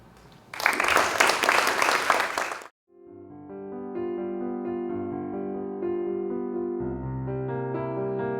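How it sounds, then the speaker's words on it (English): Audience applause at a Hellenic Medical Society of New York gathering honoring medical and high school students, a loud burst of clapping lasting about two seconds that stops abruptly and gives way to music. "Another round of applause for her."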